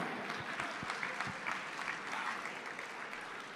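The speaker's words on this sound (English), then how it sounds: "Round of applause for Renee." A crowd at a Detroit auction applauds a winning bidder, steady clapping with a few sharper claps standing out, sustained and slowly fading.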